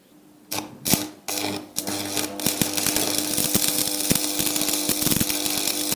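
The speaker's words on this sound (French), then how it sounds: "maintenant, je vais le souder à l'arc sur le châssis" Arc welding joins a steel U-channel to a vehicle chassis, a few sharp strikes starting the arc followed by a steady close crackling buzz that continues to the end.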